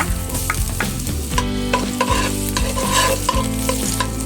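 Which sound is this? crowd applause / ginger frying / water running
ginger frying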